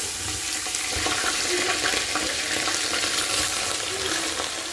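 Ginger, green chilli, garlic and curry leaves sizzle in sesame oil in a pan after mustard seeds have popped, for pineapple pickle; a dense, loud, continuous frying hiss, close and unbroken throughout.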